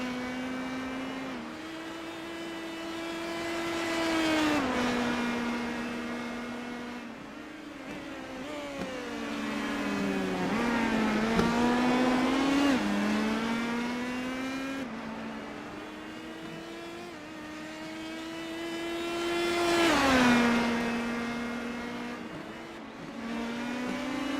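IndyCar open-wheel race cars lapping the Barber circuit in a racing game, a loud continuous engine whine rising and falling through upshifts and downshifts, with occasional nearby cars passing.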